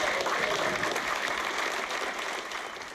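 A room full of party caucus members applauds the new Prime Minister and Deputy, steady dense clapping at a moderate distance that continues evenly and fades slightly toward the end.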